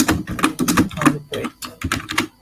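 Rapid, close keystrokes on a computer keyboard, clicking in uneven bursts with short pauses between them.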